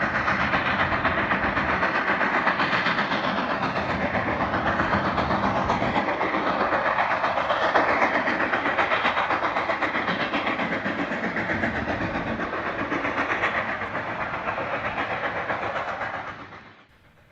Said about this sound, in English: That was the engine fighting up the grade out of Jim Thorpe on its way to Pittston.